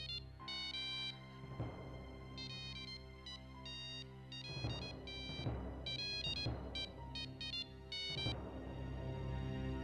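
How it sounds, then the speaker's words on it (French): A telephone rings in repeated electronic bursts of trilling tones separated by short gaps, loud and clear over a soft background, with no voices. "S'il te plaît, réponds au téléphone, Oudé."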